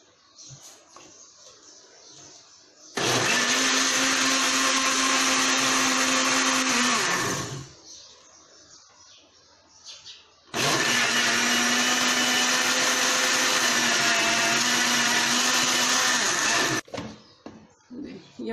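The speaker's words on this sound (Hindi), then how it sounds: "इसको ब्लेंडर में लगा के तो ब्लेंड करेंगे।" A kitchen blender whips milk cream with cold water in a jug to churn butter for homemade ghee, running loud and steady in two long bursts of roughly five and six seconds, separated by a quiet pause with faint background noise.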